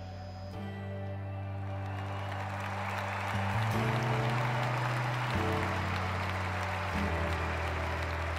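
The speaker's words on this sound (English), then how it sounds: "team members walk forward applauding and clapping." Applause from the crowd at a 2012 London Paralympic athletics medal ceremony as the German bronze medal team walks forward, a steady wash of clapping under music tones and public-address sound.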